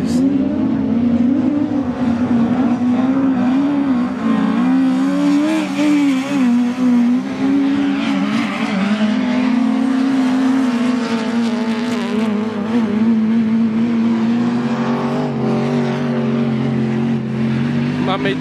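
Autograss race cars at Oxton Raceway, a loud continuous engine drone rising and falling as cars rev and pass close by, with people talking over it.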